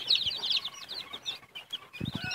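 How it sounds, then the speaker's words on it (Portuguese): Free-range chicks peeping in a busy run of high, rapid chirps, with a low hen cluck or two near the end. "Tem alguns pintinhos aí, todos são de galinha de capoeira, certo?"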